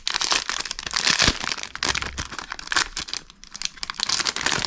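Plastic packaging torn open by hand around a Pokémon card portfolio, close and loud crinkling and tearing in irregular bursts, with sharper cracks and rustles throughout and no voice.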